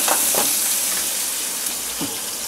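Five or six chopped small onions fry in a pan with dried red chilli, a brief, even close-up sizzle with faint crackles.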